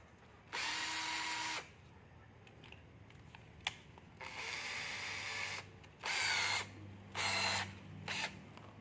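A cordless impact driver drives long screws into hardwood in several loud, close bursts of hammering whir, each a second or so long, separated by short pauses with faint clicks and handling noise.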